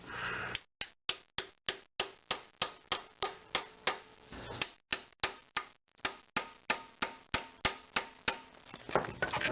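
Steady series of about two dozen sharp metallic hammer blows on a packed-bread plug, forcing the pilot bushing out of a 2008 Honda Civic Si flywheel during clutch replacement, each strike close and loud with brief pauses and no talk.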